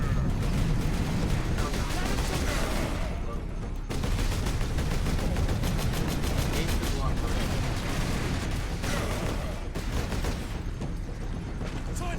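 Gunfire rings out in the Warhammer 40k Space Marine video game as a dense, loud barrage of rapid shots. It runs almost without stopping, with a couple of brief breaks between bursts.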